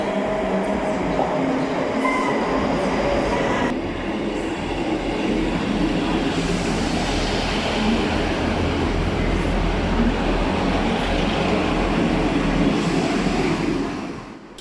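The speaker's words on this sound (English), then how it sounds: "I saw a few more trains in Edinburgh Haymarket before we got ours" Trains at Edinburgh Haymarket station, a loud continuous rumble of a passing train with rolling wheel noise and faint squeals, steady for most of the stretch before easing off at the end.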